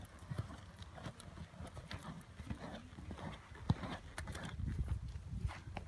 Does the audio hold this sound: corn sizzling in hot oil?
no